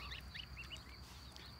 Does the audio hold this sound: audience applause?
no